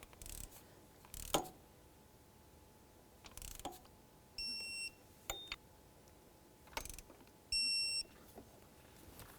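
A torque wrench tightens water pump bolts on a Buick LeSabre engine. Scattered metallic clicks and ratchet ticks are followed by two sharp electronic beeps, likely from a digital torque wrench, in a quiet workshop.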